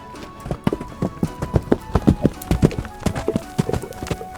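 A horse runs down a track, its hooves clip-clopping in a quick, uneven rhythm, with steady background ambience underneath.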